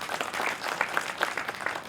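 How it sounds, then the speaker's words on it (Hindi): Audience applause at a book launch event in Hindi, a steady wash of many hands clapping for two seconds at moderate level with no voices over it. "ताली बजा दीजिए उसके लिए"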